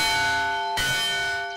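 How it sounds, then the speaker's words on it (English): A church bell rings on the grounds of a summer camp, a clear sustained tone with a second strike partway through, its ring slowly fading out. "bells will once again ring through the grounds"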